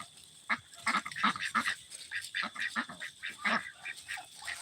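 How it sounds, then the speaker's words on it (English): Hungry farm ducks quacking repeatedly in a busy, fairly close chorus of short calls, with irregular rhythm and no talking. "And of course the ducks are still hungry"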